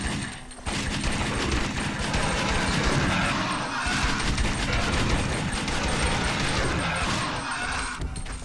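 A dense, continuous barrage of rapid gunfire from the video game Alien Shooter 2 roars loudly for several seconds, dipping briefly near the start and fading slightly at the end.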